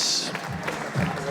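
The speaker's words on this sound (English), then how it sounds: "keep that round of applause going as well, please" Applause for the undefeated winner of a boxing bout in Liverpool, a steady wash of clapping filling the hall, with a voice faintly mixed in.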